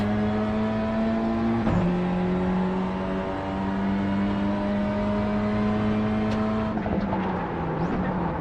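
A race car's engine drones steadily in a racing video game, with a second car closing in from behind; sustained harmonic engine tone with a brief pitch dip, continuous and loud without talk.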